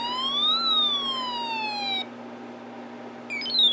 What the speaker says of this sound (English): when I let go of it, the siren continues playing, but that capacitor is discharging